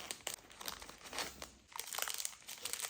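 A plastic party favour bag crinkles and rustles in continuous close bursts as it is pinched and tied with ribbon for a circus-themed birthday, fairly faint with a short lull midway.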